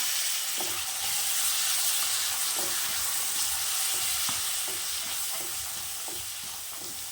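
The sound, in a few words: peeled peas stirred and frying in a pan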